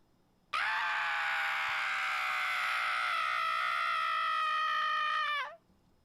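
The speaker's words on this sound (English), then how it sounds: "Should I play the original unedited scream?" A single sustained, guttural human scream, raw and unedited from a music recording session, bursts in loud and close, holds for about five seconds with a strained harmonic tone, then cuts off sharply with a brief falling tail.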